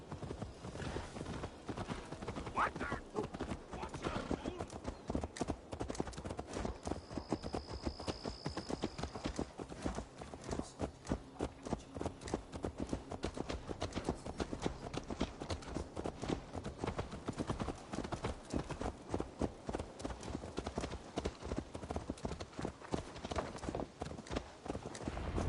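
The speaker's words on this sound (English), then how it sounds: "Let's return the horse" Horse hooves clip-clopping in a steady, rapid rhythm in Assassin's Creed Valhalla, continuous and close, with faint ambient game sound beneath and little talk.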